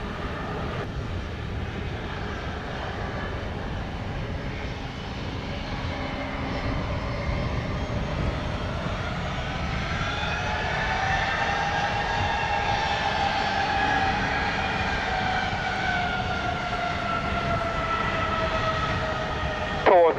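A JetBlue airliner taking off from runway 07, heard as a loud, steady jet engine roar with rising whining tones that builds and holds throughout, close and continuous.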